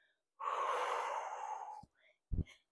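A long, breathy exhale during a core workout, close and clearly audible, followed by a short sharp breath or snort.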